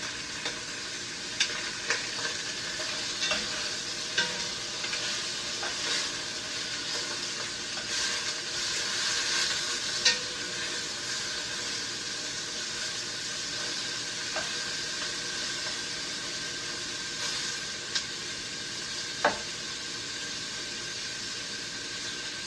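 Browned pork with aromatics sizzles steadily in a pan, a continuous moderate hiss with scattered stirring clicks and scrapes recurring every few seconds, no voices.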